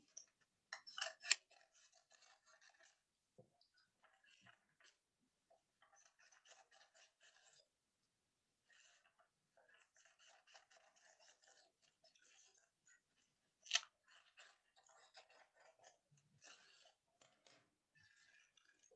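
Scissors cut wrapping paper into strips with bursts of quiet, crisp snips in an uneven rhythm, broken by short pauses and a few louder cuts, up close with no talking.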